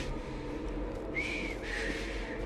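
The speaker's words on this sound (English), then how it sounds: "I've just learned to whistle." A character in Assassin's Creed Syndicate whistles two short, clear sustained notes over steady low background game ambience.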